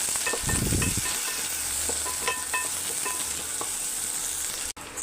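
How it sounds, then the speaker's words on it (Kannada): Ginger garlic paste sizzles steadily in a pan for prawn tomato gravy, with a constant bright frying hiss, light scraping stirs and a brief low thump near the start. "ಜಿಂಜರ್ ಗಾರ್ಲಿಕ್ ಪೇಸ್ಟ್ ಚೆನ್ನಾಗಿ ಫ್ರೈ ಮಾಡ್ಕೊಳ್ಳೋಣ."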